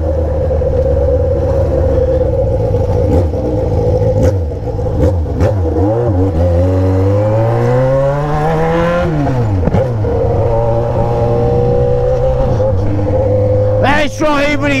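A Yamaha XJ6 motorcycle with a straight-pipe exhaust revs up and down repeatedly, loud, rising and falling in pitch, with a rumbling idle between and occasional clatter near the end.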